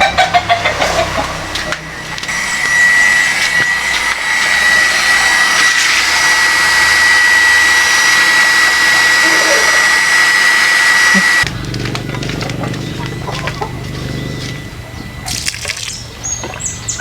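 An INGCO 0.5 HP water pump runs with a loud, steady motor hum and rushing water, its tone shifting partway through and then carrying on with rougher sloshing.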